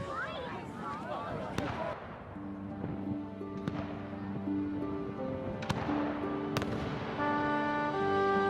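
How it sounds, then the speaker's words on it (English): New Year fireworks booming and crackling in a dense, continuous barrage, with sharp bursts standing out over a roaring crowd and musical tones. "they're counting down to have fireworks blast off"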